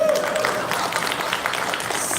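An audience at a live comedy show claps and cheers in a dense, steady burst of applause that fills the room for a couple of seconds, with a brief voice at the start.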